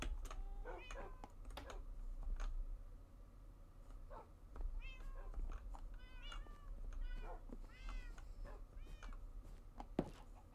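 Cats meow repeatedly in a Minecraft game, with short high mewing calls scattered throughout over a low steady background, mixed with intermittent clicking like keyboard typing and no talking.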